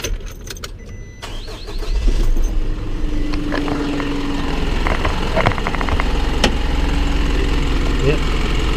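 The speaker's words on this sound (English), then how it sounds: "Get a viewing shot of that little four-cylinder going." A 2018 Isuzu NPR-HD truck's 5.2L four-cylinder diesel idles steadily at close range, a low even rumble with keys jangling and a few clicks at the start.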